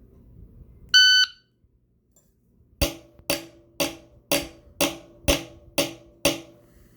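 A short, loud electronic start beep from a shot timer sounds once at a shooting range, followed after a pause by eight sharp, evenly spaced gunshots ringing out in steady rhythm.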